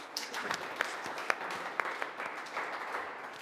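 A modest audience at a business talk gives itself a round of applause, light scattered clapping with a few sharp individual claps standing out, fairly close and brief.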